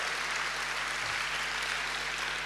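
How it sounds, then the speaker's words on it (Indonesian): Steady applause from a church congregation, a dense wash of clapping that stays even throughout. "Boleh saya dengar tepuk tanganmu yang paling meriah buat Yesus Tuhan kita."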